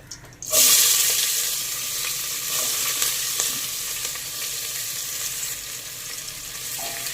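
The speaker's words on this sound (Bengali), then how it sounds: "এবার কুচো করে রাখা পেঁয়াজগুলো দিয়ে দেব।" Chopped onions go into hot oil tempered with cloves, cinnamon and bay leaf, bursting into a loud close sizzle that settles into a steady crackling fry.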